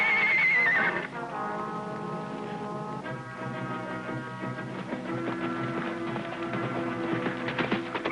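A horse gives a loud, shrill whinny at the start, followed by quieter snorts and a rhythmic clip-clop of hooves building toward the end.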